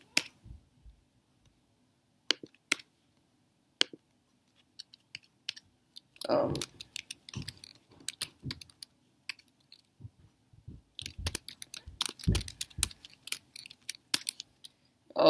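Computer keyboard keys tap out song names in scattered bursts of quick, close clicks, separated by near-silent pauses and growing denser toward the end.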